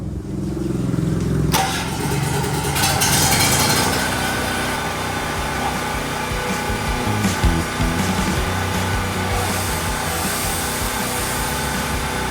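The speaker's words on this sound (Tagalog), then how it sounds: "Start natin yung generator natin." A PK4000E2R generator runs under load with a loud, steady engine drone, joined after a sharp onset by a whining power tool that continues throughout, close and without speech.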